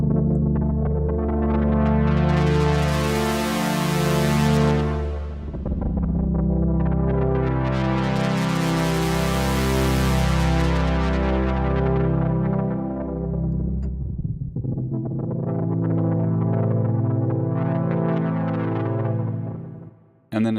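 A sustained retro synthesizer pad on a Nord Lead with wide reverb plays slow swelling chords, each tail washing out before the next, alone and fairly loud.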